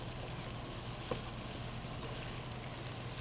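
Ground turkey browning in a pan, a steady, even sizzle throughout with a single faint click of a utensil.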